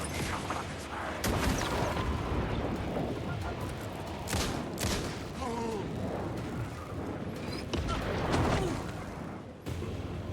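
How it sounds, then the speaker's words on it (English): A flashbang grenade going off in the Alan Wake 2 video game amid loud, dense game sound, with sharp blasts and crackling bursts over a constant roar and a brief voice partway through. "Flashbang!"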